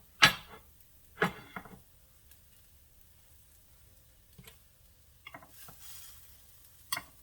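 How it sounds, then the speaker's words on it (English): Egg bites sizzle and crackle in a pan, coming as a few sharp bursts with quieter spells between them, moderately close and with no talking. "It is sizzling really good."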